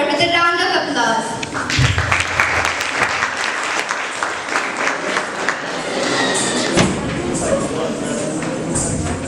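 School annual-day audience applauding to welcome a Bharatanatyam dancer, a loud, dense, sustained crowd of clapping filling the hall, with a voice briefly at the start.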